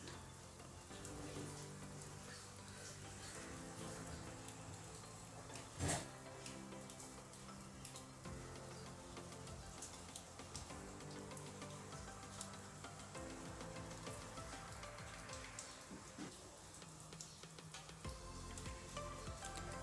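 Food shallow-frying in a pan over a medium-high gas flame until brown and crisp, a very faint, steady hiss and crackle that holds evenly throughout, with a single sharp knock partway through.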